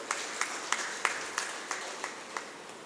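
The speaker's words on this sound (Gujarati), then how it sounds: "એને પણ આપણે તાળીઓથી આવકારીએ." Audience at the opening of a sewing machine training workshop claps in a gathering of rhythmic, evenly spaced bursts, a modest crowd applauding a guest for about three seconds without talk.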